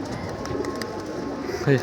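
Pigeons at a rooftop loft on an afternoon, with one brief, louder coo near the end over a steady murmur of background noise and faint calls.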